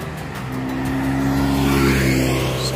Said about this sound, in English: My bus is coming.